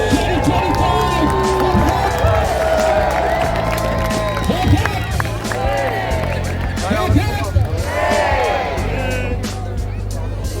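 Large outdoor crowd cheering and shouting at a fireworks night in Seaham, a loud continuous roar with whoops and claps, under an amplified announcer's voice.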